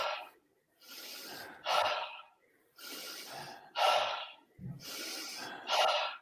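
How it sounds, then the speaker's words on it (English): Connected rhythmic breathing exercise: three cycles of a loud, rasping inhale running straight into an exhale, each breath linked to the next without a pause, with no talking. "you just connect it one after the other. As soon as you finish one, you start the next one."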